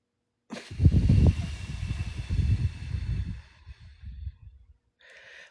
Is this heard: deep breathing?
yes